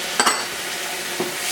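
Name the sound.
wine added to sizzling pan with sausage and garlic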